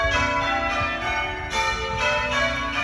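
Church bells ring out from the Chesterfield crooked spire, a peal of ten bells plus a curfew bell, their tones overlapping in a steady, resonant wash with fresh strikes landing every half second or so, moderately distant and alone.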